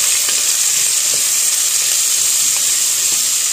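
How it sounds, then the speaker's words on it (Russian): Steady frying sizzle in a pot with a bright, constant hiss, close by and continuous, with faint occasional stirring clicks underneath. "Обжариваем."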